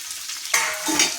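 Green chilies fry in hot oil for a gongura (sorrel leaf) curry: a quiet start gives way to a loud, steady hiss of sizzling oil that swells again near the end, with no voices.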